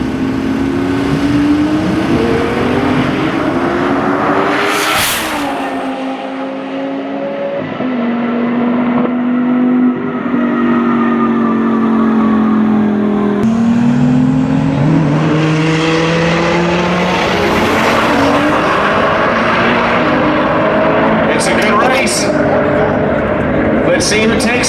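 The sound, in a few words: 2000HP sequential Viper V10 racing to 200 mph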